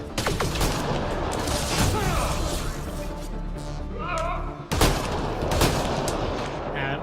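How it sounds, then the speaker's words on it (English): Shotgun gunfire in the video game Mass Effect Andromeda, with a rapid barrage of blasts and impacts, then a sharp loud boom near the end, dense and continuous. "shotgun from really far away"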